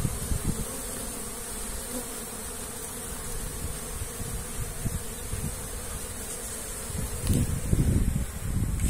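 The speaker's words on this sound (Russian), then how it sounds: "Пчелки работают, все хорошо." Honeybees at an apiary hive on a warm late-March spring day around 21°C, midday, give a dense, steady buzzing that continues without a break throughout, close by, with no talk.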